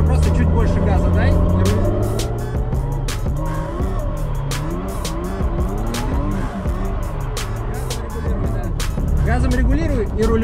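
A car engine revs hard while the car drifts in circles, tires squealing and skidding continuously at close range, with the engine note rising and falling under a voice giving instructions.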